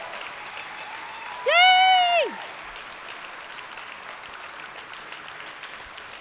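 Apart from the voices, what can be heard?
applause at awards ceremony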